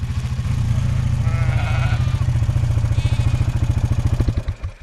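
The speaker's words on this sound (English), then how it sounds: "the sheep are tussling among themselves to get the best portion" North Country Cheviot sheep jostle over feed put out on grass, with a steady rapid clatter of hooves and bodies and a couple of bleats, loud and close.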